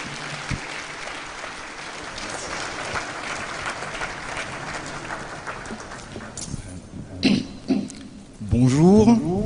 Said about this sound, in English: let's make him feel welcome with a resounding round of applause